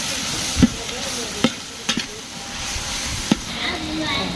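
Masala paste with garam masala, coriander powder and kasuri methi being stirred into oil in a pan, giving soft scraping strokes and a few sharp spoon knocks over a low steady sizzle, close by.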